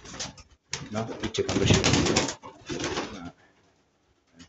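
Pigeons in a loft give a close, low, throaty cooing that rises to a steady run and then fades to quiet. Someone speaks briefly over the birds.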